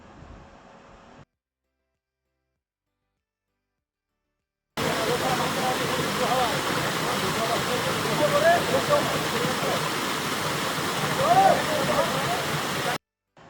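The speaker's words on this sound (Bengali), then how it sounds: "বর্ষাকালে এই তুর্গা ফলসের এক অন্যরকম রূপ থাকে, কিন্তু যেহেতু আমরা গেছিলাম শীতকালে, মানে 23শে জানুয়ারি, তাই জলের স্রোত অতটা ছিল না।" Turga Falls in Purulia flows at reduced winter volume, a steady broadband rush of falling water heard at moderate level after a short gap of silence, with a faint voice at the start.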